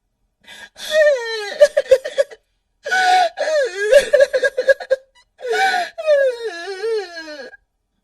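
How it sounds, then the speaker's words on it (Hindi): High, wavering sobs and whimpering wails in several bursts separated by short pauses, close and fairly loud, like someone crying in distress. "तभी उसे रोने की आवाज आती है।"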